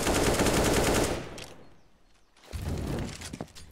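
Rapid automatic rifle fire in Counter-Strike on the Inferno map during a competitive match: a loud, dense burst, a brief lull with faint clicks and footsteps, then another run of shots.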